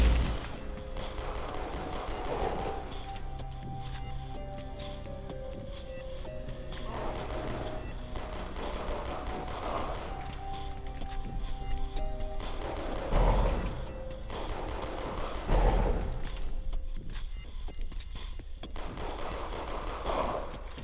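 Rapid gunfire in the shooting section of the Museum of Oddities video game, sustained bursts of rattling automatic fire with heavier booms, steady and loud throughout alongside game music, with no talk.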